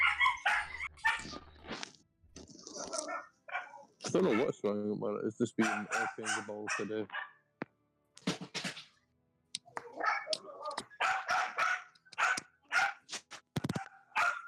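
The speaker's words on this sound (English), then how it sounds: "The dog's going mental." A dog barks repeatedly in the background of an online tabletop role-playing session, its barks scattered among and partly masked by steady conversation from several people.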